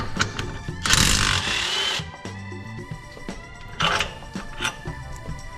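Power tool work on the rear axle suspension of a Honda Fit, with a loud two-second burst of whirring drilling or impact-driving near the start, a shorter burst later, and scattered metallic clicks and clanks between.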